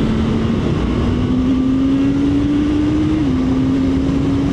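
A Honda CBR650R E-Clutch inline-four revs past 7000 RPM, its loud steady engine whine climbing slowly in pitch, then dipping briefly near the end, with no talk over it.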